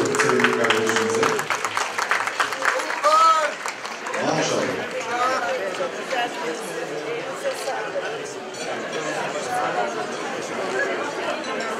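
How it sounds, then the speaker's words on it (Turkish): An audience at a disability-themed community event in Turkey claps for a guest while loud crowd chatter and overlapping voices fill the room, and the applause stays mostly under the talk. "Bir alkış istiyorum sevgili kardeşimize."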